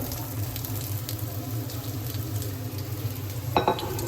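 Onions and chicken drumsticks fry in a pan with a steady, dense sizzle that holds at an even level throughout. A brief clink sounds near the end.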